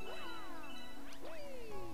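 Checkpoint chime in Super Mario Galaxy 2: bright chiming tones with swooping, gliding pitches ring out in two quick flourishes over soft background game music, clear and moderately loud.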